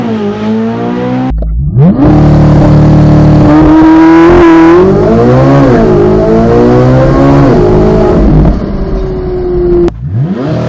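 A Corvette Z06 launches hard from a standstill to 60 mph, its engine roaring loudly and climbing through the revs with distinct upshifts, then briefly dropping and picking up again near the end.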